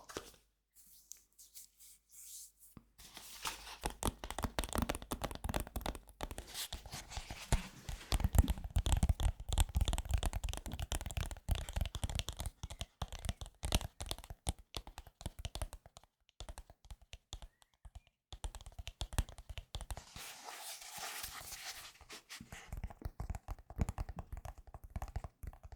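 Fingertips and nails tapping on a CD-ROM drive for ASMR, a close, dense run of light clicks and scratchy taps that keeps going with uneven rhythm, with no voice.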